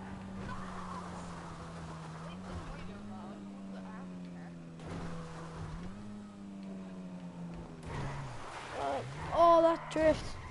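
Mini Cooper drifting in GTA V, a steady low engine drone that dips and rises with skid-like tonal sweeps, heard under near-constant talking and laughing from players.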